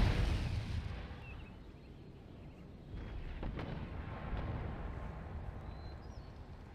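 Cannon fire rumbles through an Empire: Total War battle around Pressburg, a deep boom at the start, then softer distant reports and low battlefield rumble.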